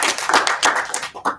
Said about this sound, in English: So we give a brief round of applause for both candidates before we begin the debate.